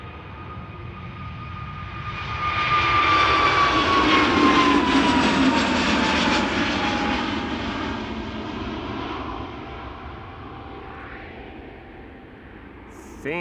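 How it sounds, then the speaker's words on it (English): KLM jet airliner departing Schiphol for Oslo, its engine roar swelling as it passes nearby with a high whine on top, then fading to a distant rumble. "KLM flight 1199 to Oslo."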